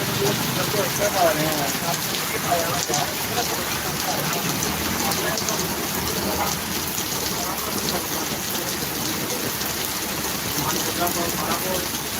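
Steady, heavy rain pours down without a break, a dense wash of drops close by, with faint voices murmuring now and then underneath.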